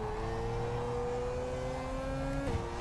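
Marussia F1 car engine in the rFactor 2 racing game, a steady high whining tone that drops sharply at a short-shifted gear change near the end, continuous and moderately quiet.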